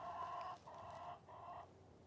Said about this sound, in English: Here's my chickens.